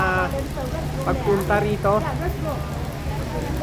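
Outdoor rain in Hong Kong patters as a steady broadband hiss under a person speaking throughout.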